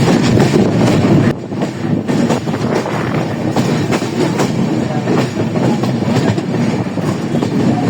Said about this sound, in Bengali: আমরা এখন হেরামারা থেকে ছেড়ে যাচ্ছি